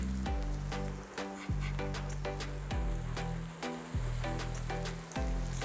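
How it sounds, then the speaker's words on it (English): Vegan patties dropped into hot oil, a loud steady sizzle with crackling pops, broken by repeated low thumps and scraping bursts about once a second as each patty goes in. "What I'm going to do now is scoop them up and just drop them in that oil."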